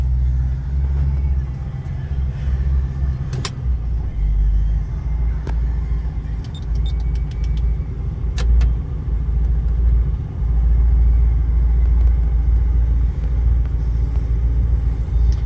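A 1989 Aston Martin Lagonda Series 4, still at high idle after warming up, sets off driving with a steady close engine rumble throughout, a few sharp clicks and a voice over it at times.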